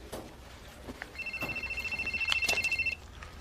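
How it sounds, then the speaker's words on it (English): A cell phone rings with a steady, repeating electronic tone that pulses for about two seconds, fairly loud and close, with a bit of quiet room noise around it and no talk over it. "Your cell phone. It's ringing."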